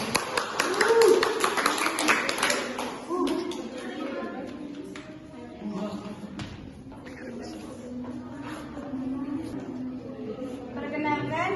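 Classroom students clap together, a burst of quick, bright claps and taps in the opening seconds that thins out, followed by a student speaking in a small room.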